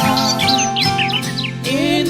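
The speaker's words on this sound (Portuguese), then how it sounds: "já posso ouvir os passarinhos a cantar" Small birds chirp and trill at dawn, blended into a loud musical backing with sustained tones, so the birdsong sits within the song rather than alone.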